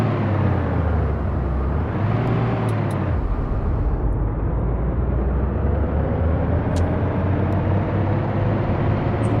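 A bus travels along a road with a steady, loud engine rumble and road noise throughout, the drone shifting pitch slightly as it climbs.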